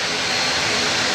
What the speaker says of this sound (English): That's the first time I've seen a completely black airplane.